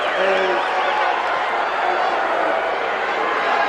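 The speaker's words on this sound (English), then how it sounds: "pleasant roar from this crowd" Wrestling arena crowd at a Butch Reed versus Jim Neidhart match, a steady, dense roar of many voices filling the hall, with a commentator talking over it throughout.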